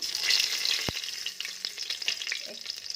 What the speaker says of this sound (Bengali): এই দেখুন তেজপাতা দিলুম এখন।